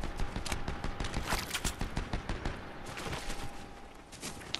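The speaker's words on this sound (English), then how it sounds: "There's shots up ahead too." Dense bursts of gunfire ring out in a Fortnite match, rapid cracking shots stacking into a continuous fusillade that fades slightly toward the end.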